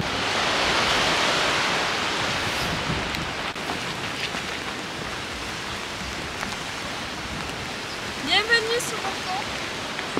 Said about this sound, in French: Ah les rouleaux magnifiques.